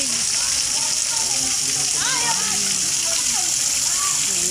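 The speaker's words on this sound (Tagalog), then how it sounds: "Tubig. Dumami na ang tubig." Rushing, splashing water at Sol Y Viento in Pansol, Laguna, a loud constant wash of spray and flow with people talking and children's voices under it.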